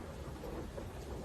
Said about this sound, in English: there was one loud lightning strike like probably a mile or two away, and that one was super close